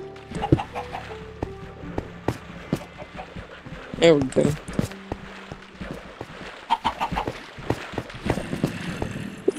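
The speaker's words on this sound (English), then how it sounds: "Hey, we got a new chicken." Chicken clucking in Minecraft, a few short clucks among game sounds and scattered clicks, mostly under someone talking.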